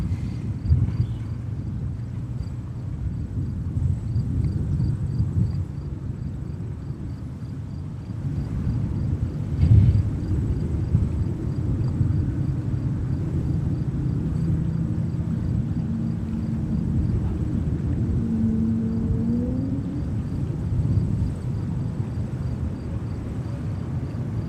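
Airbus A220 and A380 airliners at New York's JFK Airport give off a low, steady, distant engine rumble with a faint high whine, unbroken for the whole stretch, with no talk.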